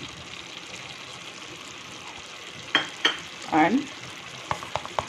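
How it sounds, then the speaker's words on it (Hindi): Pav bhaji tomato masala, with ground coriander mixed in, fries in a pan under a steady soft sizzle. A few sharp scrapes and clacks of stirring come near the middle and end, and one short spoken word is heard. "अभी मैं इतने ही मिक्स करूँगी, इसको मैं अच्छे से चला दूँगी।"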